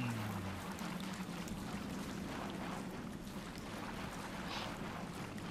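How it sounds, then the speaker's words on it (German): Water in the video game Mass Effect rushes and laps steadily at moderate distance, a soft continuous wash with no speech over it. "Wasser, Wasser, Wasser."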